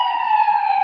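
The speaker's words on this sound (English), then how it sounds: "It's an ambulance passing by" An ambulance siren sounds as a loud, steady, continuous wailing tone that holds evenly through the moment with no talking.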